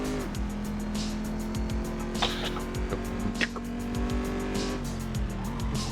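A Chevrolet Corvette on a sighting lap in the Assetto Corsa racing game, its engine droning steadily with gear changes and brief tire squeals, heard at moderate level throughout.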